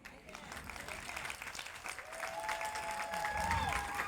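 Audience applause at an outdoor domestic violence awareness walk, a steady spread of clapping holding throughout, moderately close, with a faint tone and murmuring crowd underneath and no clear speech.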